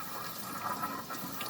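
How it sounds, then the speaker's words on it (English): Water flushing out of the coolant system of a Mazda RX7 FC: a soft, steady rush of running liquid, faint and continuous with no voices. "You can see it's flushing out everything."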